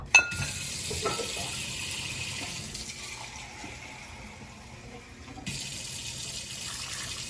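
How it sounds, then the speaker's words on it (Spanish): Vinegar and water poured from cups into a container, a steady splashing fill that runs continuously, shifts partway through, then resumes slightly louder, with no voices. "aquí le voy a agregar la taza de vinagre y la taza de agua."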